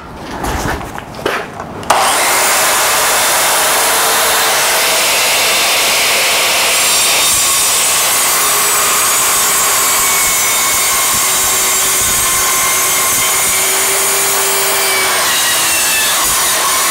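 Evolution Rage 180B circular saw making a triangular cut, starting after a couple of seconds of light handling noise and then screaming loudly and continuously through the material with a harsh, bright whine.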